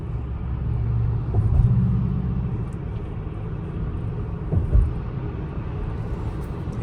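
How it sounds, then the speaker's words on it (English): Steady low road rumble fills the cabin of a moving Tesla running Full Self-Driving v12, a continuous tire and engine-free drone with a couple of brief thumps over bumps, no voices present. "no problems at all with the road noise from my perspective"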